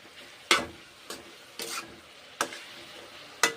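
Cabbage with turmeric powder cooking in a pan, heard as a few short, sharp stirring scrapes and clatters spaced about a second apart over a faint sizzle.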